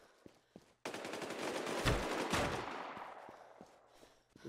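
Rapid automatic gunfire in the PvP survival game Infestation The New Z, a few isolated shots then a long dense burst of rattling fire with heavy impacts, fairly near and loud before trailing off.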